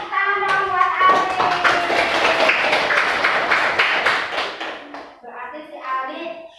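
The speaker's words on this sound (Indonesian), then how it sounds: "Kasih tepuk tangan dong buat Ali" Schoolchildren in a fifth-grade class clap their hands together, a dense, busy patter mixed with young voices and chatter, loud and close throughout before thinning near the end.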